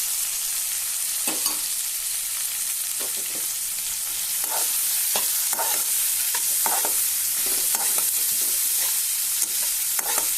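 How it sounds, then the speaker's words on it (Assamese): Steady hiss of tomatoes frying in a pan, with intermittent scraping and stirring clicks throughout, close and moderately loud, no voices. "বিলাহীটো অকণমান ভাজিব লাগিব।"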